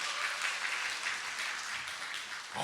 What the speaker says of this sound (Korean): 박수 한번 합니다. 박수 한번.